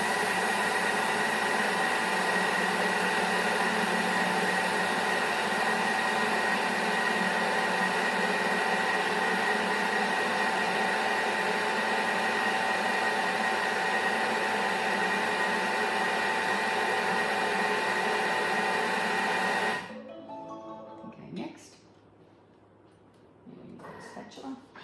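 A Thermomix blends brown sugar and golden syrup at speed 4, a loud, steady whirring motor hum held for about twenty seconds before it cuts out, leaving a few faint clicks and bumps.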